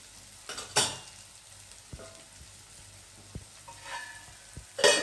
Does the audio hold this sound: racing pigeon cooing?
no